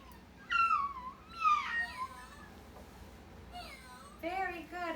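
A child imitates a cat, giving several high, wavering meows in short bursts with quiet gaps between them.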